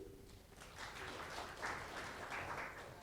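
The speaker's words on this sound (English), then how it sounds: "So, now I would like to welcome Mr. Ankit Machhar. Round of applause" Faint audience applause welcoming a speaker to a philanthropy session, a soft, somewhat distant patter of clapping that swells slightly partway through, quiet throughout.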